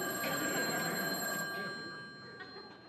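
An old telephone bell rings in a burgled home, a loud continuous ring that fades somewhat toward the end, with no talk over it.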